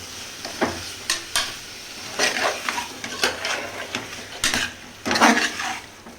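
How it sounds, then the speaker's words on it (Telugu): Chicken gizzards stirred slowly by hand in a bowl, giving soft wet squelching and scattered clinks against the bowl, irregular and close, with no talking. "మనం ఎంత నీట్గా మంచిగా స్లో కలుపుతూ ఉండాలి."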